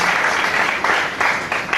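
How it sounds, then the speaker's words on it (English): A conference audience at a women in mining event applauds, a loud, continuous patter of many hands clapping with slight surges, no voices over it. "Do another round of applause."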